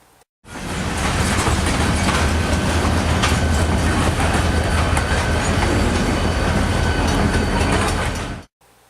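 A BNSF freight switcher train rumbles past close by at a road crossing, a continuous loud roar of wheels and rail clatter lasting the whole stretch.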